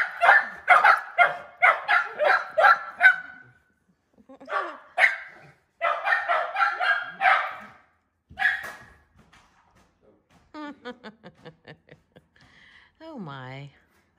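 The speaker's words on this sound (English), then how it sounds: "Leo, you checking to see why Murray's barking?" Murray, a dog, barks indoors in fast repeated volleys of sharp barks, pauses, then barks again. Later come softer yips and a rising whine, and a person speaks briefly near the end.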